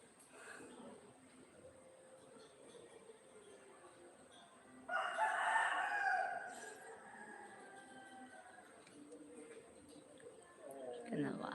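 A hungry chicken lets out a loud, ragged crow near the middle, with scattered clucks before and after. People talk quietly and intermittently underneath in a quiet, close setting.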